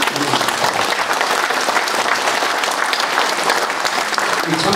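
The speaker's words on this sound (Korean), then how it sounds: "박수 한번." Sustained applause from an audience at a Korean patriotic rally or commemorative event, steady and dense clapping filling the space for several seconds with no voices over it.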